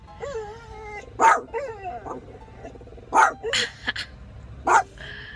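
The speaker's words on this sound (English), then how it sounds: "I don't know if you can hear me because these two are barking." Two dogs barking in short, sharp bursts with whiny yips and whimpers between, close by and loud.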